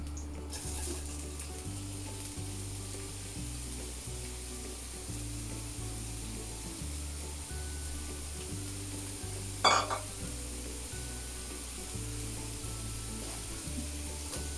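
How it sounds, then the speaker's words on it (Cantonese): Enoki mushrooms stir-frying in fresh oil in a nonstick wok, a soft, low sizzle running steadily throughout with one sharp clank of a utensil against the pan partway through. "咁首先咧就炒咗啲金菇先。"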